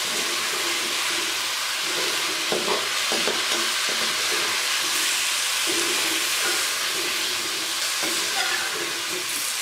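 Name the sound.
frying ginger garlic paste in a pan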